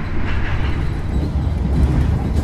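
The KA Taksaka passenger train runs straight through Gombong station at about 80 km/h, a loud steady rumble of wheels on rails heard from close by inside the moving train.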